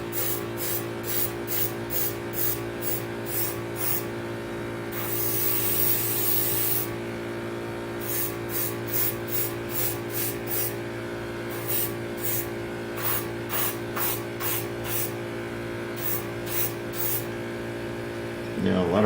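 An airbrush sprays weathering paint across a model railway module in bursts of hissing air, with short repeated pulses, a longer continuous spray, then more quick bursts over a steady background hum.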